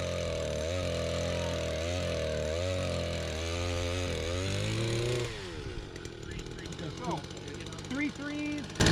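Engine-powered 4-inch earth auger drilling holes for planting Christmas tree seedlings, a loud close two-stroke engine whining and revving in repeated surges, then dropping away while people talk.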